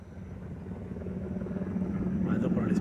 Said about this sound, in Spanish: patrullajes de los helicópteros